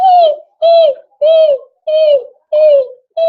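A voice imitates a bird call, repeating a short whistled note six times in an even, steady rhythm, close and loud.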